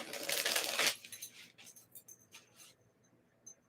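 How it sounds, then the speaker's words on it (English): A brand new deck of playing cards riffle-shuffled once in a loud, close, crisp burst, followed by a few quieter taps and light card clicks as the deck is squared. "Since this is a brand new deck, I'm going to give a couple more shuffles."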